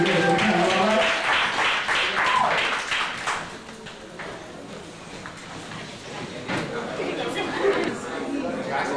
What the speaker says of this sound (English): Put your hands together for the panel, all right?